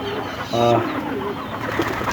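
Belgian pigeons coo in a home loft, a short burst of throaty cooing rising clearly above a steady background hum, with faint rustling around it.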